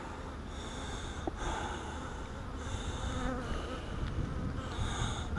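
Bees buzzing around a hive, a steady droning hum with a few louder passes close by, no voices.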